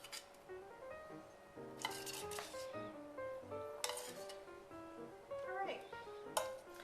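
A knife scrapes sticky bar batter from a bowl, producing faint clinks and scraping strokes against the bowl under a quiet speaking voice.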